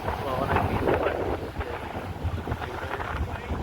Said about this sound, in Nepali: तर हावा चलिरहेको छ